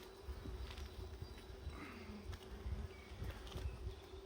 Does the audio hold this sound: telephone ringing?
no